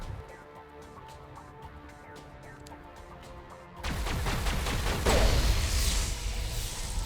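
Burst of video game gunfire erupting suddenly partway through, loud, dense rapid shots over a busy game soundscape, following a quieter stretch of ambient game noise.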